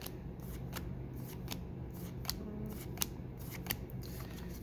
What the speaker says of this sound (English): Keep flipping the cards.